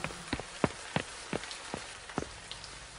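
Steady rain falls on a city street at night, a continuous wash of patter with a run of sharp, evenly spaced drip taps roughly every half second, close and fairly quiet, with no voices.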